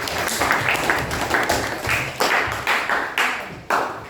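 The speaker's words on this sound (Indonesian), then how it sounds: "tepuk tangan dulu dong untuk selfie" Classroom applause from students during an Indonesian school lesson, a steady patter of many hands with rhythmic bursts and accents recurring about every half second, filling the room at moderate volume with no talk over it.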